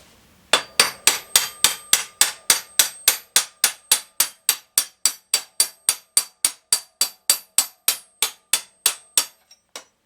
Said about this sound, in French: on continue de l'extraire en tapant un peu au marteau tout doucement.